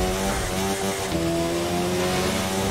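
A motorcycle roars at high speed, around 140 km/h, while held in a wheelie, its engine a sustained, steady high-pitched drone with wind rush, continuous and close for the whole stretch.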